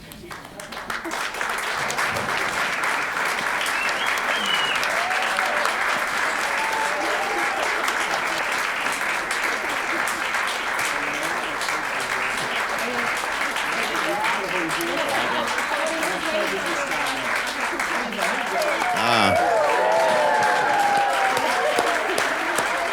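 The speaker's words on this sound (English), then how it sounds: "I think we can keep clapping for just a few moments." Sustained audience applause fills a school musical performance, steady and dense from start to finish with a brief swell near the end, cheers and voices mixed into the clapping.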